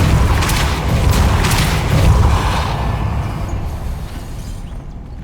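In Hogwarts Legacy a Depulso spell fires with a loud whooshing boom and rumbling, creaking mechanical clatter that gradually fades away, heard with no talk.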